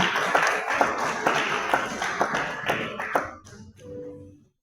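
A church congregation breaks into applause, a dense patter of clapping hands that builds briefly and then fades out, leaving a short low tonal sound at the end.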